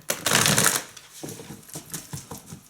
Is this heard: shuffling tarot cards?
yes